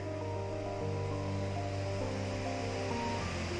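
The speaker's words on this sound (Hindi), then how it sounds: "ये टरबाइन का ओवरफ्लो वाटर होता है जो इधर से निकल रहा है।" Turbine overflow water rushes out from the Maneri Bhali dam power project, a continuous broad whoosh of fast-flowing water, steady and fairly loud throughout.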